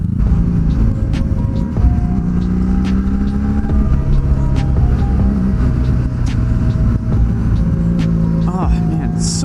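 A Honda Magna motorcycle being ridden, its engine rumbling steadily and loudly throughout, with faint shifts in pitch as it moves along.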